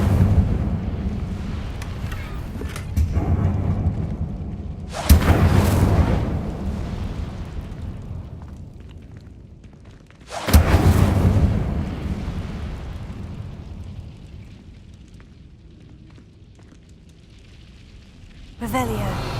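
The Incendio fire spell in the video game Hogwarts Legacy erupts in loud, roaring fiery blasts, three sudden bursts that each swell and then fade into a low rumble, with voices in the game heard between them.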